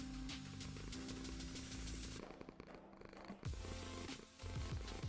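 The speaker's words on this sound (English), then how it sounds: "I think my mic is picking up my cat purring" A cat purrs right into a microphone, a close, continuous low rumbling throb with a buzzy, static-like texture, steady throughout with no talking.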